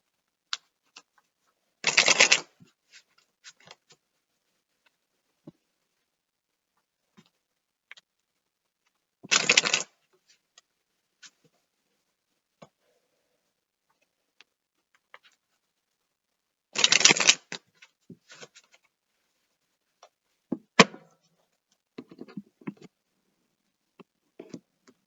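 Tarot cards are shuffled during a reading in a quiet room. Three short riffles sound crisply up close, spaced several seconds apart, with faint taps and card handling between them.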